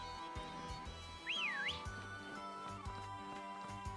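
A player character whistles in the Pokémon Sword video game, a short rising-and-falling wavy whistle over continuous background game music and ambience.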